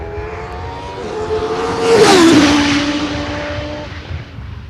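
A single-seater race car accelerates hard up the main straight at Knockhill racing circuit, engine note climbing as it approaches, swelling loud as it passes close by, then fading away; no speech.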